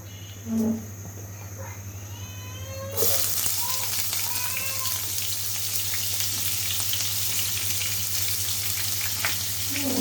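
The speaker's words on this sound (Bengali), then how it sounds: "পেঁয়াজটা দিয়ে এখন আমি হচ্ছে লাল লাল করে ভেজে নিব" Onions for chicken biryani hitting hot oil, bursting into a loud, steady close sizzle after a short quiet start with a low hum and a brief clink, the frying crackle continuing unbroken to the end.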